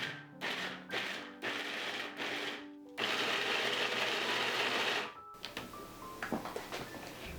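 A kitchen appliance grinds walnuts in several short loud bursts, then in one longer continuous run, followed by light taps and knocks as it stops.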